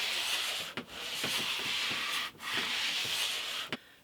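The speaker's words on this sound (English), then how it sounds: "it's taken me half an hour of sanding" Hand-sanding a wooden radius dish jig, a close, steady abrasive rasp in long strokes broken by three brief pauses, with no talking.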